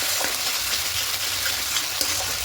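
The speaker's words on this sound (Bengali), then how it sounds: "টক দই দিয়ে খুব ভালো করে আরেকটু কষিয়ে নেব" Rui fish masala with sour yogurt being stirred and sautéed in a pan, a steady close sizzle with light scraping and stirring, continuous and fairly loud with no talking.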